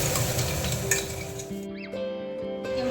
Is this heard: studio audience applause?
no